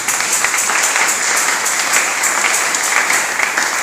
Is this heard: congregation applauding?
yes